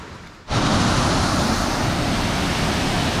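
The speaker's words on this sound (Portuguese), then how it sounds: "A água batendo nas pedras, que dá esse barulho tão característico." Waterfall water crashing onto rocks at Cachoeira do Paiva in Serra do Tepequém in the Amazon, a loud, steady broadband roar that bursts in abruptly after a quieter half-second and continues without pause.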